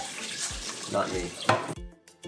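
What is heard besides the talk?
rinsing rice under running water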